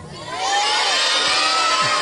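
A crowd of children at a storytelling event cheers and shouts, swelling after a quiet start into a steady, loud clamour with a few whoops.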